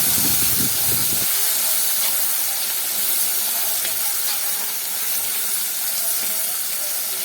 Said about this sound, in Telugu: మనం మిక్సీ చేసుకున్న చింత చిగురు చట్నీని ఇందులో వేసుకోవాలండి. కాస్త ఫ్రై చేసుకోవాలి